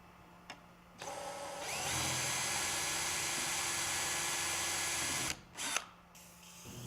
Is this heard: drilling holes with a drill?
yes